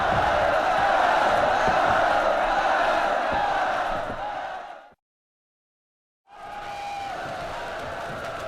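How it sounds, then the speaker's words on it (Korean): Massed soldiers' battle cry as an audiobook sound effect, a loud sustained roar of many voices that fades out, falls silent briefly, then rises again. "군사들은 아불화도가의 각오에 호응하여 창칼을 높이 들고 함성을 질렀다."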